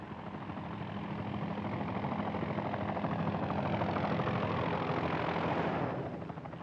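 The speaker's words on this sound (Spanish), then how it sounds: "el piloto de helicópteros, Dave Foster, se eleva" A crop-spraying helicopter carrying insecticide takes off, its engine roaring steadily with broadband rotor noise, swelling slightly before fading at the end.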